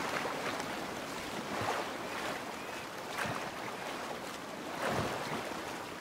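Swimming through freezing ocean water in the survival game Sons of the Forest, with a steady wash of waves and splashing, gentle surges rising every couple of seconds, no voices.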